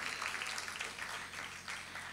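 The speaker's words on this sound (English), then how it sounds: "hear another round of applause for the amazing talent of Miss Arista Katwaru" A seated audience at the El Dorado South Hindu 2024 graduation ceremony claps for a performer, a dense, even wash of applause held throughout at moderate distance.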